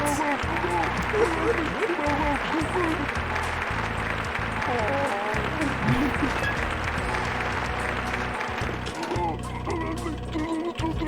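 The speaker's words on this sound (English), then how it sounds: "And then everybody clapped." Applause in the video game Chibi-Robo rises as continuous game-sound clapping, with people talking over it throughout.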